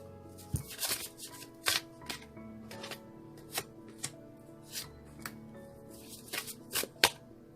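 Tarot cards are shuffled in a series of quick riffling bursts and soft slaps, irregularly spaced and close by, with no one speaking.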